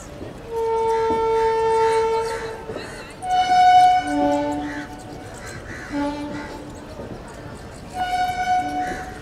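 Paschim Express passenger train pulling into a crowded station platform, several long horn or whistle tones sounding near and loud over rumbling rail noise and background crowd chatter.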